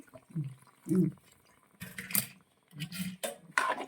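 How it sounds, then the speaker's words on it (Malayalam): Water poured into a curry pot of elephant foot yam and spice paste, heard as several short splashy pours and sloshes in separate bursts, close by and moderately loud, with quiet gaps between them. "വെള്ളം നമ്മൾ ഒഴിച്ചു കൊടുക്കുവാണേ"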